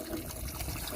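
Rainwater drains and trickles out of an old engine being checked after sitting, a steady close gurgling pour with no one talking.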